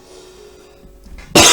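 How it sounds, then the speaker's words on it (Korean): A lecturer's cough during a criminal-law exam-prep class: after a stretch of quiet room hum and small stirrings, one sudden loud, harsh burst of coughing at the very end, close to the microphone. "자꾸 기침 나오고."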